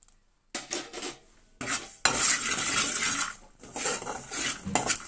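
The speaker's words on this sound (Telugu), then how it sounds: "నువ్వులను కూడా ఫ్రై చేసుకోవాలి" Sesame seeds fried and stirred in a pan, heard as close, gritty scraping and rattling in uneven bursts separated by brief pauses.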